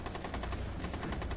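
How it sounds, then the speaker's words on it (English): Sustained automatic fire in the video game Rainbow Six Siege, a fast even rattle of close shots without a break through the whole short burst. "They started shooting up."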